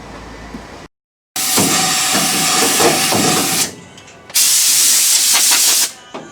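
A spray gun hisses loudly in two long sustained bursts with a brief pause between, close up, coating the underside of a Land Rover Defender rear tub in a workshop.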